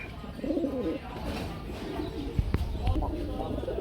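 Pigeons cooing in a cage at a pigeon sale, their low, repeated coos mixed with someone talking and a few brief knocks close by.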